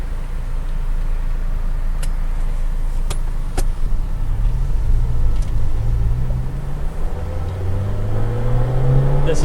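A Honda Civic EF hatchback accelerating at wide open throttle, the engine note climbing steadily in pitch as it pulls, heard from inside the car over road rumble, with a few clicks early on.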